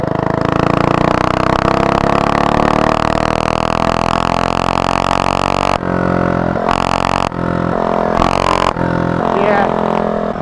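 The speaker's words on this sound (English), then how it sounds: "Yeah, that's so loud," The Predator 224 engine on a billet motorized bicycle runs loud and close, a sustained rough drone that later breaks into rhythmic on-off revs, with voices talking over it.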